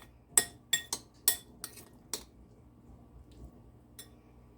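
Chickpeas and olive oil are mixed in a bowl, producing several distinct clinks and taps of a utensil against the bowl in an uneven rhythm, then a last faint clink, quiet and with no voices.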